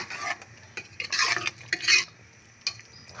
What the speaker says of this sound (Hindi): देख सकते हैं दोस्तों कि हम इसको भून रहे हैं